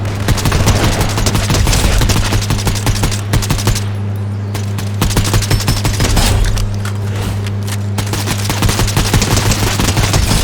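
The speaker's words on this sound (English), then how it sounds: "As I run around with my Sour Patch fucking assault rifle." Sour Patch assault rifle in a video game, firing long, rapid automatic bursts that sound loud and close, with a brief pause midway and a steady low drone beneath the shots.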